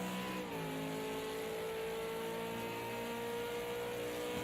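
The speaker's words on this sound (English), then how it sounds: "So he's feathering the throttle there, just getting it lined up." A V8 Supercar engine at Monza holds a steady, droning mid-pitched note under light, feathered throttle, then the pitch dips slightly and settles into a continuous rasping hum, fairly faint and unbroken, with no voices.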